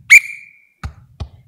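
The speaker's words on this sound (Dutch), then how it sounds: "Daarom is dit fluitje." A whistle is blown once in a live stage performance of The Sound of Music, a loud short shrill blast that trails off, followed by two dull thumps.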